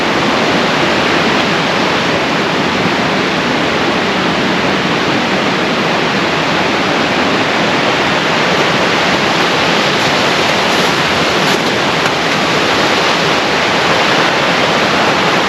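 A river in Loomis State Forest near Toats Creek rushing loudly and steadily, a dense unbroken roar of water close by with no voices.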